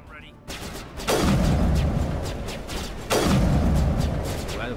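Two heavy, booming gunshots ring out in the video game Mass Effect Legendary Edition, spaced about two seconds apart. Each leaves a long rumbling tail over a constant, busy combat background.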